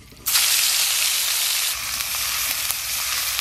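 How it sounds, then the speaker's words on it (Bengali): Onion paste with cumin and dried chillies frying in oil, a loud, dense sizzle that erupts suddenly and continues steadily, settling slightly softer partway through. "পেঁয়াজ ভাজা হয়ে গেছে"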